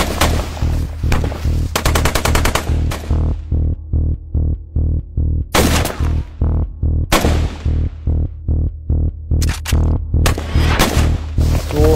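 Gunfire in an Indian Army combat story reenactment: loud rapid bursts of machine-gun fire, dense automatic volleys alternating with evenly spaced single shots in a steady rhythm, close and continuous throughout with no talking.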